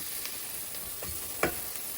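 Onions frying in a pan for crab curry give a low, steady sizzle with a few light stirring scrapes, quiet and close.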